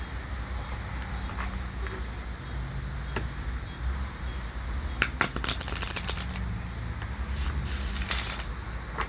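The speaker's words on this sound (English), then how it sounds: "Alright, get you one more shuffle." Tarot cards are riffled and shuffled close by, with a burst of rapid flicking in the latter half over a constant low hum.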